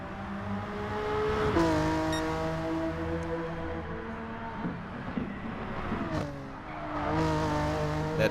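Onboard race car engine in a sim racing game, a loud harmonic whine climbing steadily through the gears, dropping sharply on downshifts, then rising again, with faint tire noise underneath.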